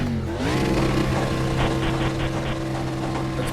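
A race car engine in a racing video game at Daytona drones steadily at close range and holds a constant, loud tone with little change in pitch. Nobody speaks over it.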